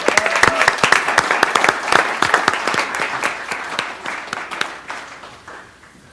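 Applause from an audience at a school board meeting, dense clapping that stays strong for several seconds and then thins and fades away, with a few faint voices mixed in.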